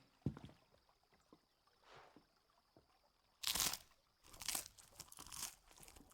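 Tavern bread is eaten in Final Fantasy 16 with loud crunchy bites, two or three close crisp chewing bursts separated by quieter gaps, with no talk over them.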